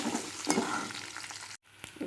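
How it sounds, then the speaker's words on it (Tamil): Urad dal, garlic and ginger sautéing in a pan for a Tamil pirandai thuvaiyal, a steady close sizzle with a few stirring clicks, a brief break, then the frying resumes. "இதை எல்லாத்தையும் நல்லா வதக்கிக்குவோம்"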